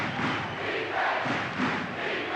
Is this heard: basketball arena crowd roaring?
yes